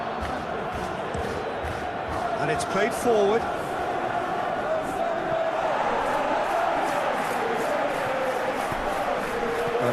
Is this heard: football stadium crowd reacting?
yes